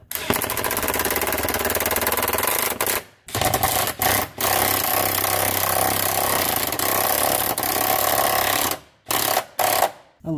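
Powered impact gun running up centre driveshaft bolts on a 2006 Subaru B9 Tribeca, loud rapid hammering rattle held for long stretches with brief gaps between bolts, close up.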